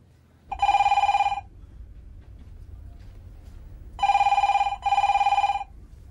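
An indoor telephone bell rings in three loud trilling bursts, one and then a pair a few seconds later, with near-silence between them.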